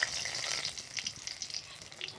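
Bay leaves dropped into hot oil in a pan after frying fish, giving a steady close crackling sizzle with fine spitting pops throughout.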